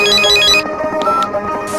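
A phone ringtone chimes loudly in a bright repeating melody, then cuts off abruptly, followed by a short stretch of background music and faint noise.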